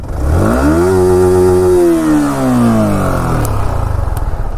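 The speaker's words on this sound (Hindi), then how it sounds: "तो कुछ ऐसा था इसका साउंड इस बाइक का" A Yamaha R15 V4 single-cylinder motorcycle exhaust climbs quickly to a high, steady rev, holds it, then winds down slowly into a rough idle. Loud and close, with no voices over it.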